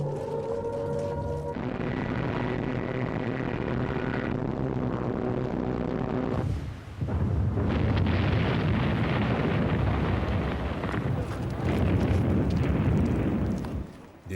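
WW2 wartime footage of the Luftwaffe bombing Malta, with a long droning roar of aircraft followed by heavy rumbling explosions and bursts, dense and loud throughout, with no speech.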